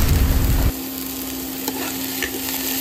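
Onion sizzling and being stirred in a hot pan for eggs and potato bhurji, a loud scraping burst at first, then a steady close frying hiss with no talk.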